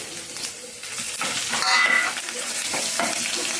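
Dried red chillies frying with coriander seeds and cumin in a pan for mint chutney, a close sizzle with brisk scraping stirs of a spoon against the pan, no talking.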